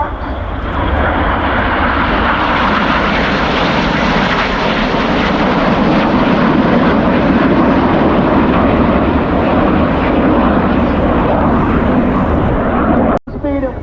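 Red Arrows jets perform aerobatic manoeuvres at the RAF Cosford Airshow, a loud, continuous roar sweeping overhead for several seconds, with a voice speaking underneath.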